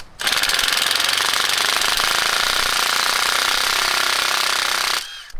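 Impact or air tool spinning a nut off the rear axle of an 80 Series Landcruiser, a loud continuous rattling hammer-drone held steady for about five seconds, close up and alone.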